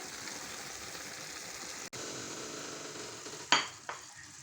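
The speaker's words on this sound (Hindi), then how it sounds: "इसको अच्छी तरह मिक्स करेंगे। 10 मिनट के लिए इसकी भुनाई करेंगे।" Beef keema roasting in a pan with spices and cumin, a steady sizzling fry under occasional stirring, with a couple of sharp scrapes or clinks of the spoon near the end; no talking.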